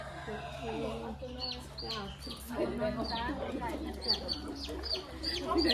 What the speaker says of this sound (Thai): เป็นไก่ดำไก่กระดูกดำ